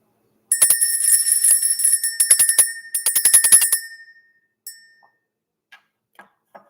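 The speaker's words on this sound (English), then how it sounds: "Let's ring the bell." A handheld bell rung rapidly in a quiet room, a steady bright jangling that rings in several close bursts for about three and a half seconds, followed by a few faint isolated taps as it settles.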